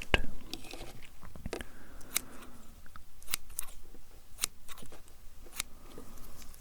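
Close, quiet scissors snipping while trimming bushy eyebrows, a rapid irregular series of crisp metallic clicks and cuts against a soft hush.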